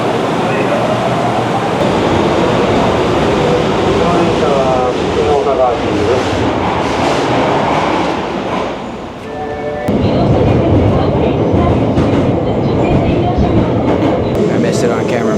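Steady rumble and clatter of a Japanese train running, heard from inside the carriage, loud and continuous throughout with a brief dip before a fresh surge; no spoken words, though a faint voice may sit under the noise.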